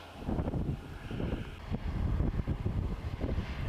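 Steady southerly wind buffets the microphone outdoors in a cotton field near Warren, Australia, a low rumbling roar with gusty surges throughout and no voices.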